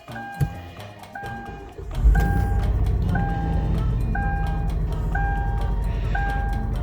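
A dirty, well-used Kia with 118,000 miles cranks and starts, catching into a steady low idle, while a periodic two-tone warning chime repeats about once per second from inside the car.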